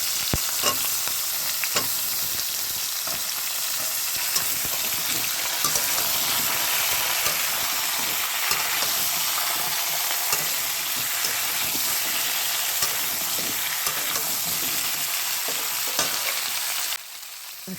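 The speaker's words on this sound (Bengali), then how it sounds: "সামান্য পরিমাণ লবণ দিয়ে আমি হালকা করে সবজিটা ভেজে নেব।" Vegetables fry in a pan tempered with whole white cumin and dried chili, with a little salt. A continuous close sizzle is broken by scattered stirring scrapes and clicks, then drops off just before the end.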